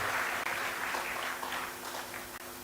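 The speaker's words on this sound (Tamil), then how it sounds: "நம்முடைய கைகளை ஒரு முறை அரங்கம் அதில் கைத்தட்டி கொள்ள வேண்டும்" An auditorium audience at a Tamil literary speech claps together in a dense, steady wash of applause that fills the whole moment and thins out slightly toward the end.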